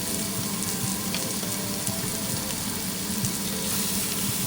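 Pork sizzles and fries steadily in a pan while being stirred, a dense, loud hiss with faint scraping throughout and no speech.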